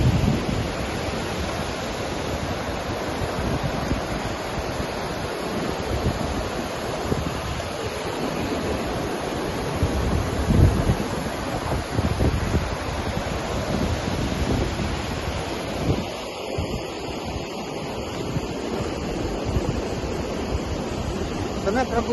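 Snow-melt water from the Ravi river in Himachal rushes steadily in a dense, loud, unbroken roar with some wind buffeting the microphone, recorded near the river on the road beyond Chamba.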